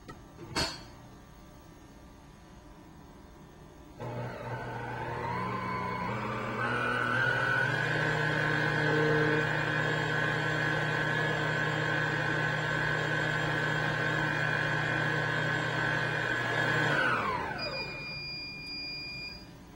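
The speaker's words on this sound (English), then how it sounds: "place this back on our stand mixer, fit it with the chef's whisk, and mix on speed 8 until it's cool" A Cuisinart stand mixer fitted with the chef's whisk runs on speed 8 whipping sabayon for tiramisu, a steady high whine that starts, ramps up to a sustained drone and then winds down, with no talk.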